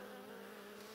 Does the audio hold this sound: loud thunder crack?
no